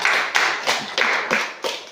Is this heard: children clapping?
yes